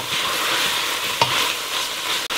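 Tomato paste being stirred in a pot of Peruvian sopa a la minuta, a continuous sizzling hiss with scraping stirring strokes and one sharp knock near the end, no voices.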